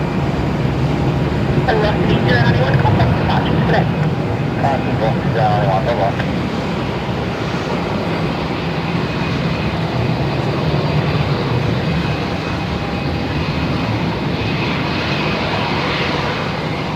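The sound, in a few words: Air New Zealand Boeing 777 landing at Melbourne Airport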